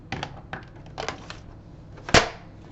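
A floppy drive sled being pushed into the select bay of a Toshiba laptop: a few faint taps and rattles, then one sharp, close click as it latches home.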